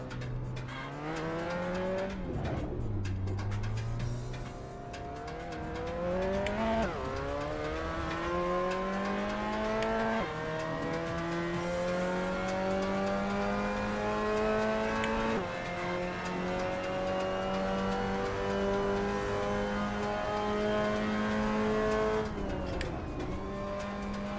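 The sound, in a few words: Mazda MX5 Cup car drifting at Silverstone, VR racing game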